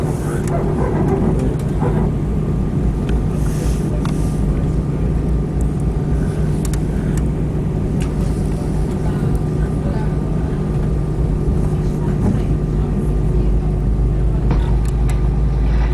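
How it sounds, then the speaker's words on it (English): Inside an airplane cabin at Frankfurt before takeoff, a loud, steady low rumble fills the space alongside a constant tonal hum, with no break from start to finish. "Cabin crew, take your seats for takeoff."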